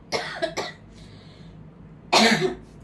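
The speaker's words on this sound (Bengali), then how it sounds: "কাশিটা একটু বাড়তেছে" A few close coughs from a person with a cold: two quick bursts early, then a single louder, harsher cough after a pause, with no talking.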